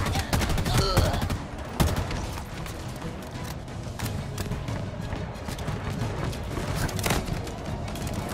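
Halo Infinite campaign gunfire on Xbox Series X: dense, continuous bursts of shots and thuds echo through a firefight, loud and close throughout.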